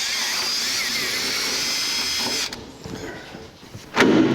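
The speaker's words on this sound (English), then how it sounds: "I think I drill the holes bigger." Power drill with an 11/32 bit enlarges holes in rock slider trim on a 1984 Jeep CJ7, a steady high whine for about two seconds that stops abruptly, followed by quiet handling noises and a brief knock.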